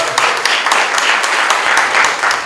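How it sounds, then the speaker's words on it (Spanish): Loud, steady applause from a conference audience, many hands clapping densely and continuously for a speaker being introduced at a social forum on the children's code, heard on its own. "Les pido un fuerte aplauso para Ángel"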